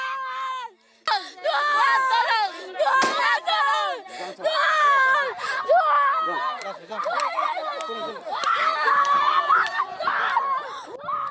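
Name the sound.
women screaming hysterically in amateur news video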